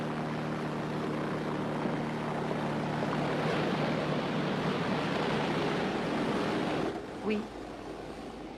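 A helicopter's engine and rotor make a loud, steady roar with a low droning hum that fills the scene, then eases slightly near the end as a voice speaks briefly.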